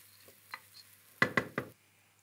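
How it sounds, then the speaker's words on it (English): A spoon stirs dal in a pot, giving a few soft scrapes and then three sharp knocking taps against the side, close and quiet, with a faint sizzle in the background. "Give it all a bit of a stir."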